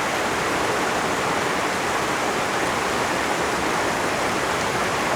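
A river stream flows steadily with a broad, constant rushing wash of water, close and loud, unbroken throughout with no voices over it.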